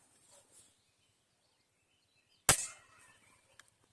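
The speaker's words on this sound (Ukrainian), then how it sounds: "Зроблю два постріли." Single sharp shot from an Izh-53M air rifle firing Soviet Diabolo pellets, loud and close, with a short ringing decay and a faint click about a second later over quiet background.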